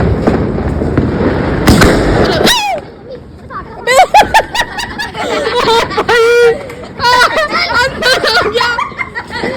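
Diwali fireworks and firecrackers crackle and pop in rapid bursts, loud and close, followed by whistling rockets, with people chuckling and chattering in between.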